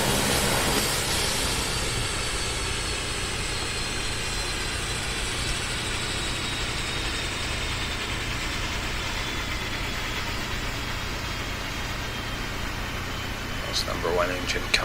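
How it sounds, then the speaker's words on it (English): An airliner's number 1 engine spools down after shutdown, a steady broadband turbine roar and hum that holds evenly throughout, with faint clicks near the end. "Number 1 engine coming to stop as well."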